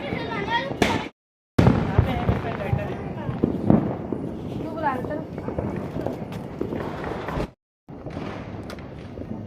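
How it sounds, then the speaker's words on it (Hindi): Firecrackers burst on a rooftop during Diwali, loud crackling pops and bangs in close, irregular succession with brief gaps, while people talk throughout. "फिर आ गए थे हम छत पे बम पटाखे फोड़ने"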